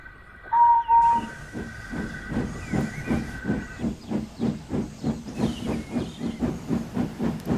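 Percy, a small steam tank engine on a railway, gives a short whistle over a hiss of steam, then starts puffing away in a steady, accelerating rhythm of chuffs, fairly close and loud.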